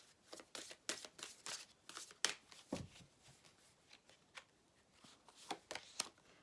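Tarot cards handled and laid down on a surface, a series of soft, crisp slaps and rustles at an irregular pace, close and fairly quiet.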